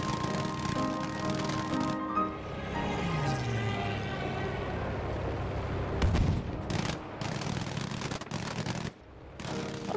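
Rapid bursts of aircraft cannon fire in a foggy Battlefield multiplayer match, dense overlapping shots over a steady background din of engines and battle, with a sharp cluster of loud impacts partway through and no talking.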